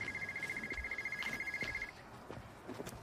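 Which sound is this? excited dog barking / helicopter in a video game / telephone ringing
telephone ringing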